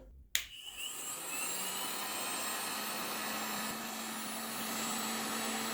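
Black & Decker KX1650 heat gun switching on with a click and then blowing a steady, loud airflow roar with a faint fan whine, held close while stripping ten-year-old paint from wood.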